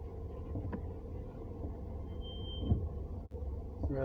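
A low, steady engine rumble and road drone come from inside a Hyundai Sonata as it is driven slowly forward and back, with a couple of faint thumps and a brief dip, moderately quiet.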